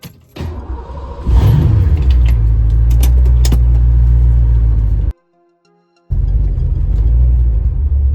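A 1987 Mustang GT on old KYB shocks rolls over a break in a driveway, giving a loud, steady low rumble with rattling and jangling over the engine, a sudden silent gap, then the rumble resumes.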